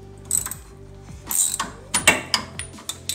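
A ratchet and wrench work loose a strut bolt during a manual transmission removal on a Honda Civic, giving quick bursts of close metallic ratcheting clicks in a few short rhythmic strokes.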